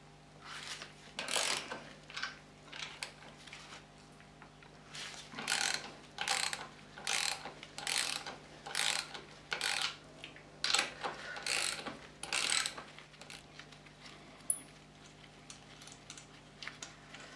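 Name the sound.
ratchet with 9/16 socket loosening brake caliper bolts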